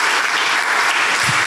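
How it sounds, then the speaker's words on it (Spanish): A church congregation claps together in dense, steady applause, loud and sustained throughout the short stretch with no speech over it. "démosle un aplauso a Dios por la inteligencia que nos dio"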